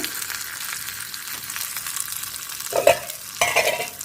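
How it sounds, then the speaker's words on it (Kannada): Hot oil sizzles steadily with crackling as cumin seeds and greens are tempered, followed by a couple of louder bursts of spattering as more ingredients drop into the pan. "ಹಾಕಿಕೊಂಡು ಒಗ್ಗರಣೆ ಮಾಡಿಕೊಳ್ಳೋಣ"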